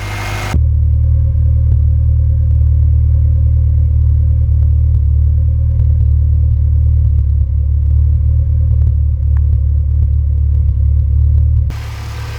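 A 1998 Honda Civic engine idles roughly with a steady low rumble and faint irregular clatter and knocks, close and continuous for most of the stretch before cutting off near the end.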